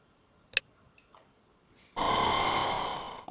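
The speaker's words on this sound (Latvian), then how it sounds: "Un kad jūs vēl atvelkat, ir tāda skaņa, kā ievilkt elpu." A drawn-back weapon from a Minecraft weapons mod gives a sustained, breathy whoosh like a sharp inhale, loud and steady for over a second after a few faint clicks, with no voices.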